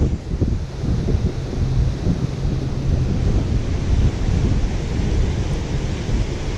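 Steady wind gusting around 35 over choppy, whitecapped water, with waves churning and a constant rumbling roar of surf and buffeting wind noise, loud and unbroken with no talking.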